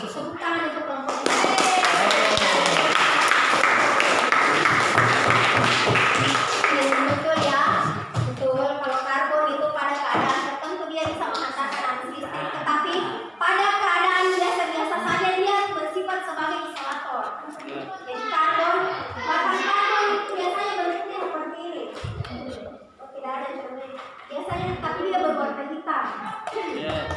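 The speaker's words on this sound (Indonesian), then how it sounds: "Tepuk tangan untuk kelompok ini." Classroom applause for a student group during a physics lesson on electric current: a burst of many children clapping fills the first several seconds, then children's chatter and voices take over with occasional taps and thuds.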